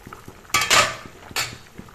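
Tomatoes go into a pot of boiling fish curry with cauliflower, giving a couple of sharp metallic clinks and scrapes of a utensil against the pan over a low simmering bubble, close and brief.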